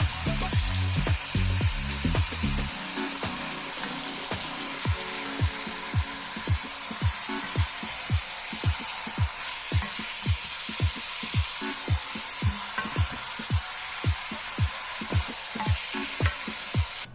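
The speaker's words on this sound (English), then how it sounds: "Throw the oxtails in and we'll begin the browning process" Oxtails brown in olive oil in a pot for a Jamaican dish, with a constant loud sizzle and a regular series of scraping stirs or pushes against the pot, close and without speech.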